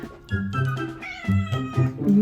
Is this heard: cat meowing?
yes